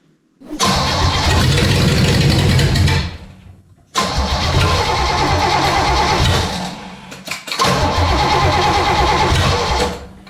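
A rebuilt car engine, started after sitting over a year, cranks and roars to life, running loud and close in three bursts with short breaks between, idling roughly with some revving as its choke opens.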